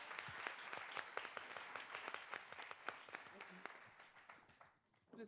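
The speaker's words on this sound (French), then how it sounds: "on peut les applaudir parce que c'est toujours difficile de passer en première" An audience at the final of an entrepreneurship competition applauds the first contestants, a dense, moderately distant clapping that fades out near the end, with a few voices mixed in.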